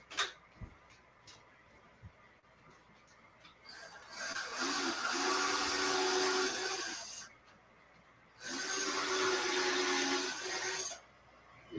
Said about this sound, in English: I need to put a double set of screws here.